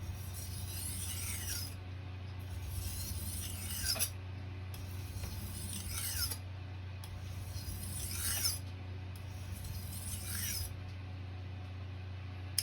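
A knife is sharpened on an 8000 grit whetstone in about five slow, even, soft swishing strokes, close and quiet over a steady low hum.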